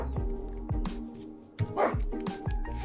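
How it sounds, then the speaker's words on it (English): Several dogs bark repeatedly outdoors at children, a steady run of close, sharp barks and yips with a few whimpers, while someone talks over them. "the dogs are going to bark from now until the end of the stream"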